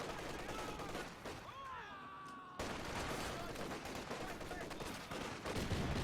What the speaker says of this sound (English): the suppression from the MG34 makes it so they can't really fight any longer